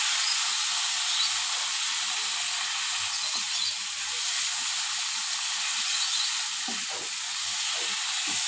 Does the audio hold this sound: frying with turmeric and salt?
yes